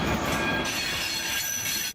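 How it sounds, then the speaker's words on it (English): Train rolling along rails, heard near and loud with screeching wheel squeal and metallic rumble that fades at the end, no talking over it. "Train."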